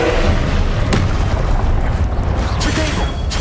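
Confringo explosion spell cast in Hogwarts Legacy, a continuous heavy booming blast with rumbling low end and crackling debris, loud and sustained for several seconds.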